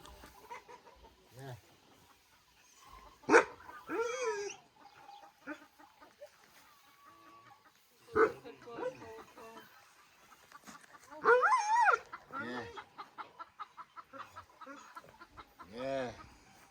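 Several sharp dog barks scattered among chicken clucks and squawks on a village farm in Tokat, Turkey, with a few louder bursts; the animals sound fairly close and faint voices murmur in between.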